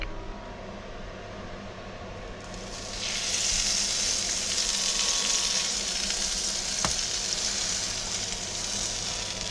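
Bacon sizzles in a pan with melted butter, a steady bright hiss that swells louder after a couple of seconds and holds. A single sharp click cuts through midway, and nobody speaks.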